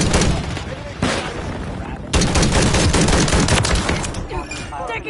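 Dense gunfire and machine-gun bursts in the shooter game Call of Duty Modern Warfare 3, loud and continuous with a brief pause near two seconds, then sustained fusillade with voices beneath.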